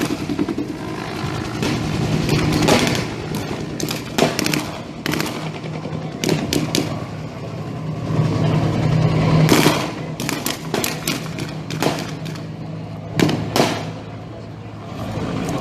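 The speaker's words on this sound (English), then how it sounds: "The forward and backward motion of the armored fighting vehicle is called jacking." An armored fighting vehicle jacks forward and backward during a military exercise as bursts of rapid gunfire crack out repeatedly, loud and fairly close, over a continuous engine rumble.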